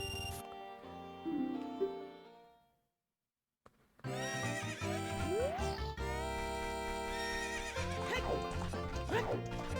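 A horse whinnies in Legend of Zelda: Ocarina of Time at a ranch where horses are rented, heard amid the game's music with a clear neigh and bright melodic tones over a sustained backdrop.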